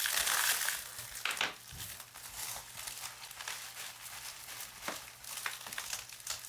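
Tough packing tape being torn and ripped open while unboxing CNC machine parts, a close, continuous crackling and crinkling rasp with a few sharper pulls, no talk.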